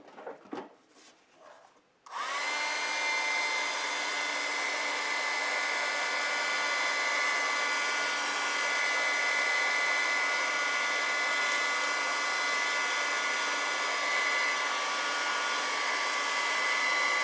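A hair dryer blows steadily on painted tissue paper, starting abruptly after a brief rustle of handling and running loud and unbroken at close range with a constant whine.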